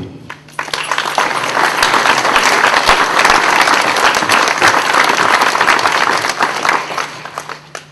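Audience applause at the inauguration of a cultural centre in Sartène, Corsica: dense, sustained clapping from a sizeable crowd that swells quickly, holds loud for several seconds, then begins to thin toward the end.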